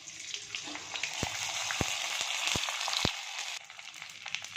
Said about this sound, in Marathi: आता मी थोडेसे तुम्हाला तळून दाखवते तेल तापले चांगले कडकडीत